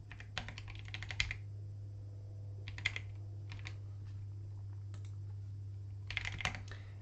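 Intermittent bursts of keystrokes on a computer keyboard, clustered into quick runs with pauses between, close and clear over a steady low electrical hum.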